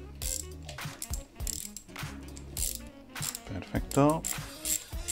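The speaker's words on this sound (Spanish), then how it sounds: "la retiramos con una llave de carraca del 8" Ratchet wrench with an 8 mm socket loosening the bolt of a cable guide on a bicycle bottom bracket shell, giving short close clicking bursts amid handling noise, with a brief spoken word.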